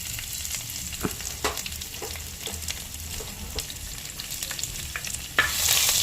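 Dried chillies, green chillies, chopped garlic and ginger crackle in hot oil while being stirred, with scattered sharp pops and spoon scrapes over a continuous close sizzle.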